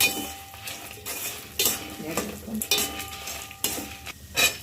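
Coriander seeds dry-roasting in a pan for brinjal rice spice powder, stirred with a metal spoon: close scraping and clinking strokes recur every second or so over a soft, rustling sizzle.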